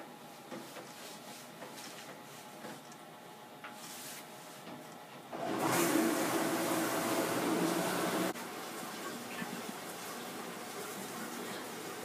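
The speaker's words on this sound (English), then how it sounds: "we just heard the instrument washer stop running" A steady mechanical whir of an instrument washer's water cycle runs and rises into a louder rushing spray for a few seconds, then drops back to a quieter hum.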